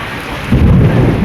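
A thunderstorm with heavy rain: steady rainfall hiss first, then a deep rumble of thunder rolls in at mid-clip and sustains loudly to the end.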